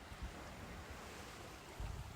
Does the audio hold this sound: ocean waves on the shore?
yes